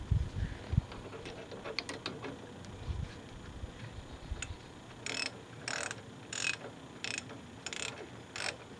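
A hand ratchet tightens the brake caliper bolts on a 2003 Ford Focus SE, giving rapid clicking runs in several short bursts. Softer handling clatter comes first, and the whole thing sounds close but fairly quiet.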